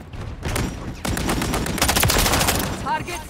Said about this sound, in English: Shoot that chopper down.